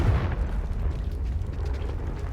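A Confringo fire spell blasts in Hogwarts Legacy, a muffled booming burst followed by a rumbling, crackling tail, moderately loud with no talk over it.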